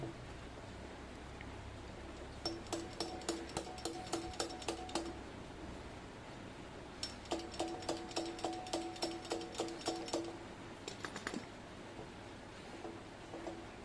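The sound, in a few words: jammed compressor rotor being forcibly turned by hand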